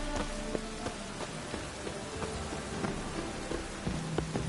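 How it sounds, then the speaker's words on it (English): Rain falls steadily in The Witcher 3 video game as a dense, even patter of drops over a surface, with scattered brighter splashes and a few faint tonal game sounds beneath, and no voices. "And it's raining again."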